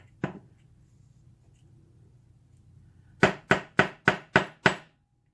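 A stuck padlock takes one sharp whack, then after a pause a rapid run of six hard metallic strikes, close and loud, to loosen a jammed pin.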